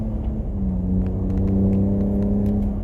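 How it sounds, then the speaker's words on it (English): Ford Raptor second-generation V6 truck engine held in third gear, a steady deep droning rumble with a layered harmonic hum that swells slightly midway and stays loud and close throughout. "the truck for a V6, it don't sound the best, it don't sound the worst"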